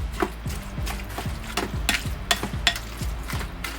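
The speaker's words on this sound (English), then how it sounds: "I'm done stirring." A spoon stirs a vegan grinder salad mixture in a bowl, producing soft wet swishes and repeated clicking scrapes in an uneven rhythm, close up with no voices.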